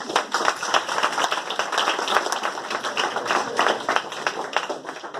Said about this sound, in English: These balls are clapping for Sir Isaac Newton.